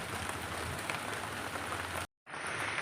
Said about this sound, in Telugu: వర్షం పడతా ఉంది